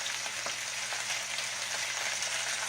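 Collard greens fry in a pan with onion added, giving a steady, close hiss of sizzling oil with faint stirring and no talking.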